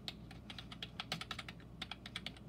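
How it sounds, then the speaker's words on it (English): Fast typing on a cheap $20 plastic BlueFinger gaming keyboard, a steady run of close, crisp key clacks with uneven rhythm and no voices. "The typing"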